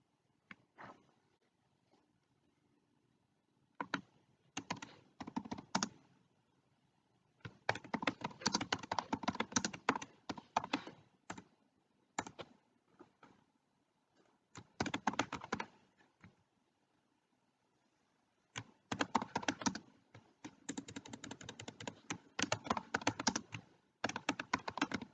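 Keys clatter on a computer keyboard as data is entered into a Microsoft Excel spreadsheet, arriving in quick bursts separated by pauses, close and fairly quiet with no talking.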